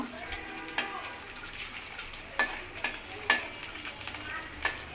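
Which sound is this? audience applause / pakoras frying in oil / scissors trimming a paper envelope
pakoras frying in oil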